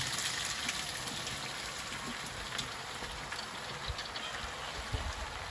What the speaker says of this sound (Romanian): În uleiul încins adăugăm ceapa care a fost